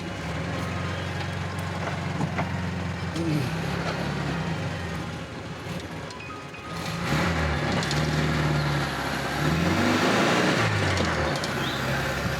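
A 1971 VW Super Beetle drives nearby, its rough low engine rumble rising and falling through revs, with louder throaty bursts in the second half as the tires spin.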